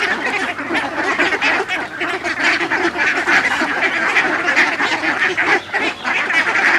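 A flock of farmed ducks quacks continuously in a loud, dense chorus of overlapping nasal calls, close by and without pauses.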